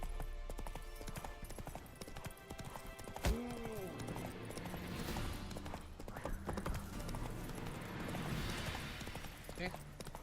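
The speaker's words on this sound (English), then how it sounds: "Whoa there, Roach." Horse hooves clip-clop steadily in The Witcher 3 video game, with a brief whinny partway through, a voice speaking at times, and a busy game soundscape underneath.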